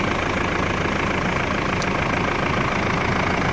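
A 1999 Mitsubishi Pajero's 3.2-litre diesel engine idles steadily, a dense, even rumble that holds unchanged from start to finish with no voices over it.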